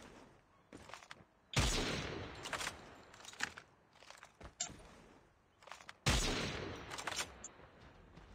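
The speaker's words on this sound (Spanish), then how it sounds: "Es que escucho los disparos, pero no sé dónde disparas" Bursts of video game gunfire crack out in uneven volleys, two loud blasts standing out among quicker, lighter shots and scuffing steps, with no talk.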